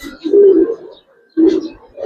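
A Giribaz pigeon coos up close, two low throaty rolling phrases separated by a short pause, with a third starting at the end; no voices.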